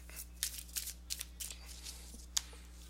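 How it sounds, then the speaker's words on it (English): Tarot cards being shuffled by hand, a series of soft, papery riffling bursts and light slaps at an irregular rhythm, fairly faint and close over a steady low electrical hum. "let me go ahead and give these cards a shuffle"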